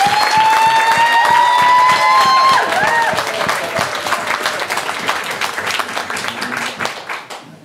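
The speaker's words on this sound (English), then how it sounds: "can I have a round of applause now, please?" Wedding guests applaud the bride and groom, loud dense clapping from a crowd that starts over a held tone and tapers gradually toward the end.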